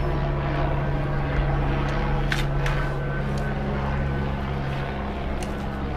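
An electric bike motor runs steadily on throttle only, a continuous loud whirring drone with a constant tonal hum and a few brief higher rattles partway through, with no voices.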